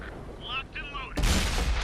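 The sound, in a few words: tank cannon firing in World of Tanks video game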